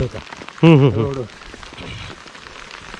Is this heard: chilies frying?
no